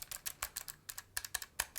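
Close-miked typing on a Logitech G gaming keyboard with a metal, non-plastic build, a run of crisp irregular key clacks in quick bursts with short pauses between them.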